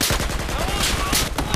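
Rapid bursts of automatic gunfire from the Battlefield 4 video game on PS3, Conquest mode on Operation Outbreak, crackle loudly and close in quick repeated shots across the short stretch.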